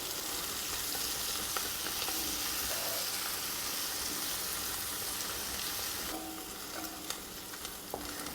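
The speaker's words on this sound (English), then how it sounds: "now let's add our tomato paste" Tomato paste fries in a pan for Austrian braised beef, giving a steady, moderately quiet sizzle with light stirring that eases slightly near the end.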